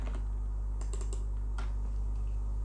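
Computer keyboard keys pressed, including Tab and Shift+Tab, while working on a stool design, heard as a few close, sharp clicks over a steady low hum.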